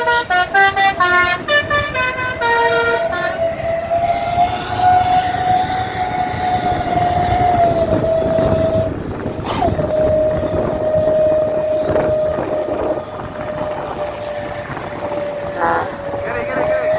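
A Setia Negara bus on an Indonesian road sounds two horns: a rapid melodic basuri horn tooting a quick tune, then a long, loud, steady ship-style air horn that drones on, wavers, and sounds again, over road and traffic noise.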